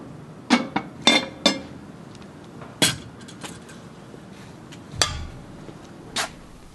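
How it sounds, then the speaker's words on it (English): A metal lid set back onto a Dutch oven of split pea soup, giving several sharp clinks and clanks spread over a few seconds, with no talk. "Put that lid back on"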